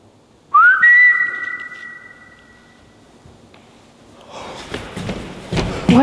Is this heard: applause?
no